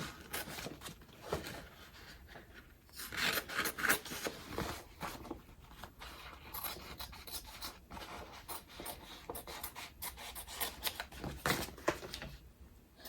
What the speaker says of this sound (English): Now we cut the rest of the tearaway out. Cut away.